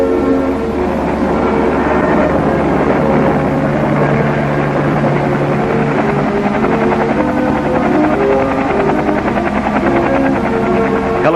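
Military helicopters at Bao Vinh in wartime Hue, Vietnam, make a loud, continuous droning rotor and engine roar that stays steady throughout, with no voices.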